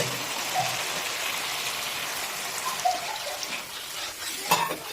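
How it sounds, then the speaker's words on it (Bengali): Water added to a pan of fish head and Gobindobhog rice gives a soft, continuous pouring hiss with faint trickles and a few small clicks, close and fairly quiet with no talking. "আর এই সময় আমরা এসে দিয়ে দেবো একটু জল"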